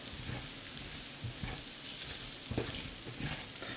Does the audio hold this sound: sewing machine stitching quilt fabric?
no